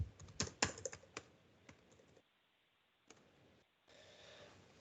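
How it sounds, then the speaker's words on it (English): Quick clicking keystrokes on a computer keyboard as numbers are entered, a dense burst of taps at first, then scattered single presses with quiet gaps and a low steady hum; close and fairly soft, no voices. "I'll type in some dummy numbers here just to get something filled out."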